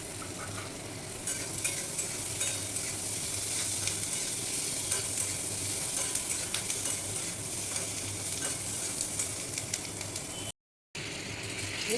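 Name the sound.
chopped capsicum being stirred and fried in a pan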